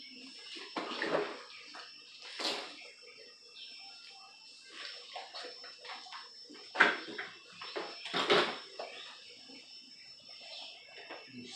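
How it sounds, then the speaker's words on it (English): Clean water splashing and running over a plastic rear center badge from a Mitsubishi 3000GT being rinsed, in irregular soft bursts with a steady faint high hum underneath. "Now I'm going to rinse it with clean water"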